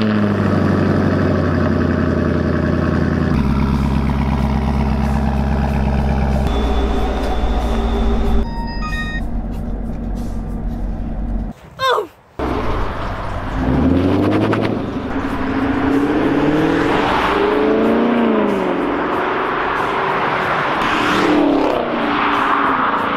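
A Chevrolet Camaro 1SS 1LE V8 idles with a low, steady rumble, then revs up sharply in rising and falling sweeps, loud and close with no talk.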